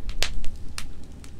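Campfire on a dark winter night at a lean-to shelter, sharp crackles and pops at irregular intervals over a low, rumbling background.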